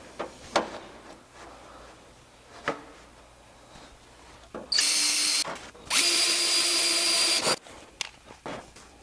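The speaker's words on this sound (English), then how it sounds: "we have to work up in size with drill bit. So I have a pilot hole drilled here" A power drill bores holes into a Mazda Miata fender, two whining bursts of a few seconds each, loud and close, between scattered clicks and handling knocks in a quiet workshop.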